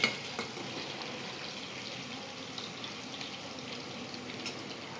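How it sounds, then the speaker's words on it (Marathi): Chili, garlic and ginger paste frying in hot oil in a hostel kitchen, a faint steady crackling sizzle with light stirring sounds and no talk. "मस्त असा ह्याला तेलामध्ये आपण फ्राय करूया."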